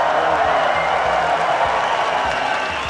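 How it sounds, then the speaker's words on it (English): Large arena crowd at the ESL One Birmingham esports event cheering for Team Liquid, a steady dense roar of voices, applause and whoops held loud throughout with no break. "Can we get a cheer for Team Liquid?"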